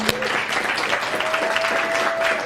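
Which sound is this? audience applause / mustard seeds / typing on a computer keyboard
audience applause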